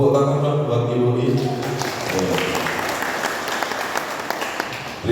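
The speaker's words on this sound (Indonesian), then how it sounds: "tepuk tangan dong buat IWOI" An audience at a community journalism training event in Sendangagung applauds, a dense burst of clapping that starts right after a voice and fades out over several seconds.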